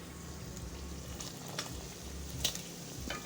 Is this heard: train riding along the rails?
no